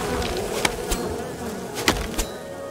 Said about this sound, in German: Oh, diese Bienen.